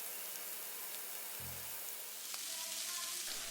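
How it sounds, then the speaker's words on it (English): Shrimp fry in a pan over medium-high heat for a garlic butter steak and shrimp dish, giving a steady, soft sizzling hiss throughout. "then cook the shrimp on medium-high for 1 minute on each side"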